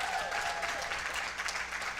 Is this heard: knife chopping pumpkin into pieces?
no